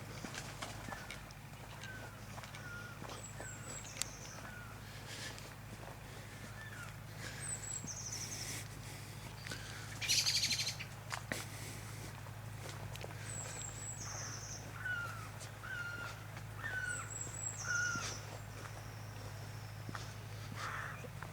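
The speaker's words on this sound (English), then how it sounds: "Lots of noises, birds," Scattered bird calls chirp and whistle at intervals over a steady low rumble of woodland ambience near Worlington on the Cambridgeshire/Suffolk border, with faint rustling steps.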